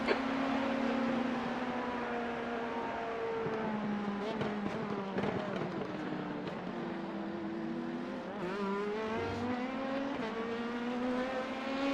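Hypercar race engine at the Sebring 12 Hour endurance race, heard from inside the car as a loud, continuous drone whose pitch rises and falls through gear changes and braking on track.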